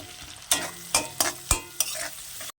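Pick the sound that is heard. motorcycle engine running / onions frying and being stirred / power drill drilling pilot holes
onions frying and being stirred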